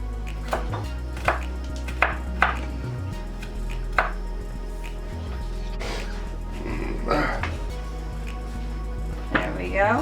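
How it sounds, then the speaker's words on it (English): Fresh onion being chopped with a knife on a board, a handful of crisp separate thunks spaced irregularly over steady low background hum, with faint clatter and some talking around them. "I'm just gonna chop up a little bit of onion."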